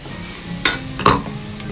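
Onion frying in a pan in a restaurant kitchen, a close steady sizzle broken by a few sharp stirring knocks and scrapes of a utensil, with no voices.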